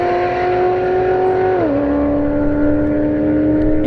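A Corvette C6 and an A90 Supra at a drag strip: a loud, sustained engine drone at high speed with a sharp downward pitch shift partway as a gear changes or the cars pass, then a steady lower roar.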